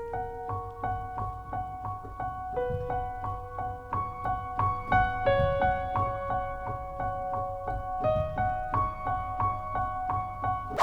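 Piano notes ring out in the upper register as a gentle two-handed melody, with steady repeated tones over soft lower accompaniment, clear and close throughout.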